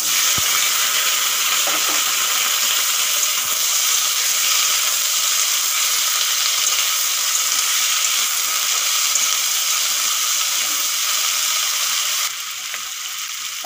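Washed, cut raw plantain sizzles steadily in hot oil in a wok, a loud, continuous close hiss with no talk over it.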